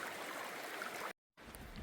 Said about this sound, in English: Got the water running next to me.